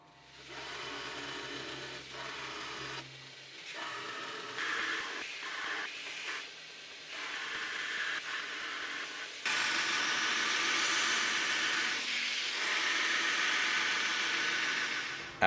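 A grinder shapes the outline of a steel knife blade, a continuous whirring grind whose pitch and intensity shift as the blade is worked, growing louder and brighter in the second half.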